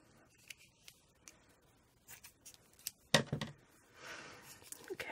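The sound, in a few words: cutting with scissors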